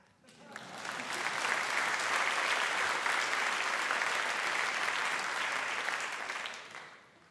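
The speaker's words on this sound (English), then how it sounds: "Go ahead, you can clap." An audience breaks into applause that swells within a second into steady, dense clapping, holds evenly at moderate volume for several seconds, then fades out.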